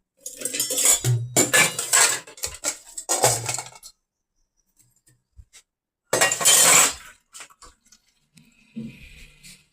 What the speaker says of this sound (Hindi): मैंने कहा चलो मैं बर्तन धो लूँ।